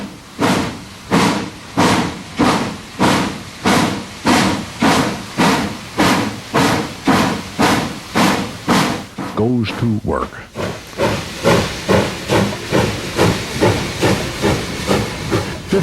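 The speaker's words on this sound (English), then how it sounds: "A steam locomotive clears its throat." A steam locomotive sets off, giving rhythmic chuffing blasts of hissing steam, loud and close, with a brief clank partway through before the beats carry on at a steady pace. A voice speaks briefly over it.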